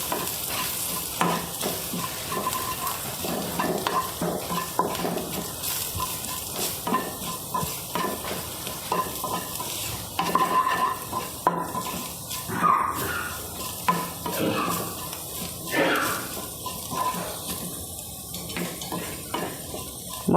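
Kashmiri chili powder frying in hot oil, a continuous close sizzle with repeated scraping strokes of a spoon stirring the pan and occasional clinks of metal.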